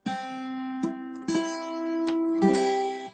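A Cuban tres with three doubled strings is plucked in a few ringing notes and chords, each attack decaying slowly into the next, played alone and fairly quiet.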